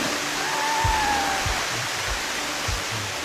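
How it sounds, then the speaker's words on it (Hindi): Steady, broadband rushing of an Icelandic waterfall fills the scene, loud and constant, with a few low thumps underneath. "ये पहला झरना है।"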